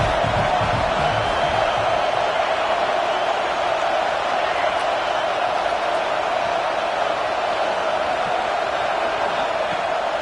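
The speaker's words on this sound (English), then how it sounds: "This crowd going to try to make life miserable for these guys." A stadium crowd in the NCAA 26 college football video game roars as a steady, dense wash of noise for ten seconds, unbroken and fairly loud throughout.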